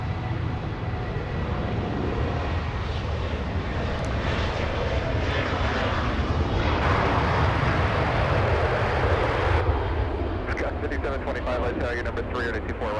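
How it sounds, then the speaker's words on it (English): A Delta Boeing 737-800 jet, about 21 years old, departs Los Angeles International Airport with a loud, sustained engine roar and rumble that holds steady throughout, with voices under the noise. "Delta 1471, a departure flying to Portland. A 737-800, the aircraft, only 21 years of age"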